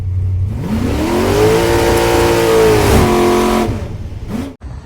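The engine of a 1995 Chevrolet Astro van, originally from Japan, revs up to a loud, steady whine, holds there for a few seconds, then drops away, heard close and alone.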